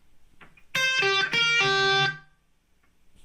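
A short electric guitar phrase: a couple of quick picked notes followed by a sustained double stop that rings out and fades, heard alone.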